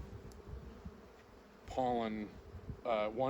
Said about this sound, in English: if you're watching bees in the front of your landing board and they're bringing in pollen